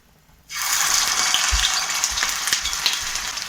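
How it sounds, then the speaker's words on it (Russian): After a brief quiet moment, a loud, steady sizzle of meat patties frying in a hot pan begins and continues with occasional pops. "И будем жарить."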